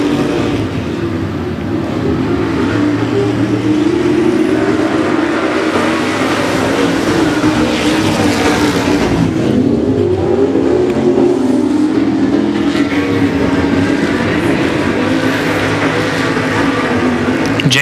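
Outlaw Street Stock race cars circle the 105 Speedway dirt oval in a steady, dense engine roar, loud and continuous throughout with rising and falling pitch as the pack works the corners.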